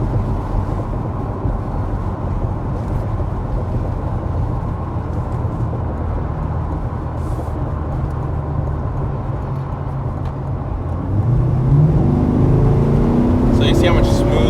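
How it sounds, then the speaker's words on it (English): A 2022 Corvette Z51 roars with a steady, loud exhaust rumble from inside the car, then downshifts near the end and grows louder as it accelerates harder. "It's going to downshift and it's going to get loud."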